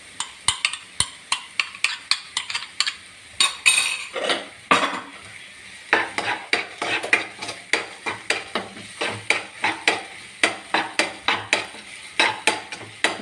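A spatula scrapes and clinks repeatedly against a pan as egg and green peas are stirred, a brisk rhythmic series of close metallic strokes over a faint sizzle.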